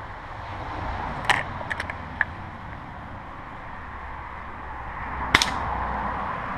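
Two distant, sharp gunshot cracks at target practice, several seconds apart, with a few faint snaps in between, over steady outdoor background noise.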